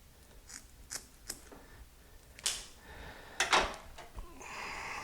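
Wire being cut for a G-Body wiring harness: a few sharp, close snips and clicks scattered among quiet handling noises, with no talking.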